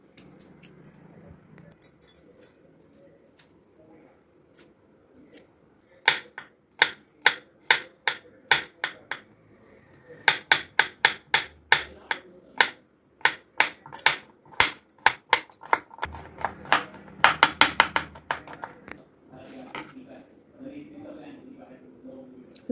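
A knife finely chops garlic on a board for cheese garlic bread, producing bursts of quick, crisp taps in fast rhythmic runs, close and distinct, with pauses between the runs.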